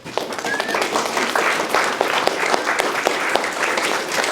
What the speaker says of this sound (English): applause for Anna there